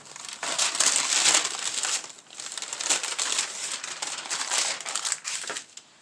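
A sheet of copy paper crinkles and rustles as it is handled nearby, in uneven bursts of crackling with brief lulls and no talking.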